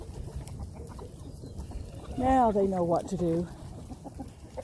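Chickens in a backyard flock cluck in a short run of harmonic calls, fairly close and moderately loud over steady background noise, with a person speaking briefly nearby.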